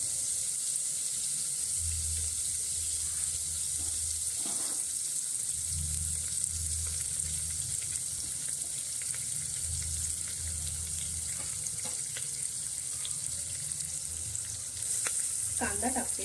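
Garlic and curry leaves sizzle in hot oil for a mixed-lentil khichdi, a steady close hiss that runs the whole time with occasional soft low knocks.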